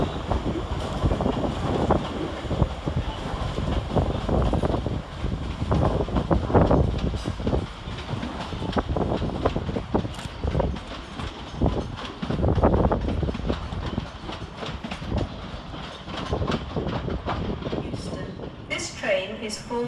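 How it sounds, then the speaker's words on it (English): A London Northwestern Railway class 350 electric train pulls out of Crewe station, a rumbling, uneven rail and wheel noise with clanks and a rising hum, mixed with platform ambience and wind buffeting the microphone. "Next out to depart is 350-408 with the 1132 London Northwestern Railway service from Birmingham New Street to Liverpool"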